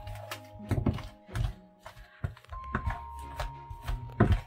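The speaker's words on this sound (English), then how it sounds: "we want to continue to cut this butter into our flour and our leavening" A pastry cutter chops cold butter into flour, baking soda, baking powder and salt for strawberry shortcake, making a run of close, dull, irregular thunks and scraping knocks against the bowl.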